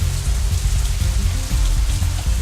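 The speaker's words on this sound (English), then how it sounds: "It isn't even raining that hard anymore." Steady rain falling in the visual novel Katawa Shoujo, a continuous dense patter of drops on surfaces with a low rumbling bed, even and unbroken throughout.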